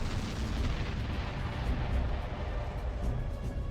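An artillery bombardment in the real-time strategy game Ground Control: a continuous, low, muffled rumble of distant explosions blurs into a steady roar with no distinct individual blasts.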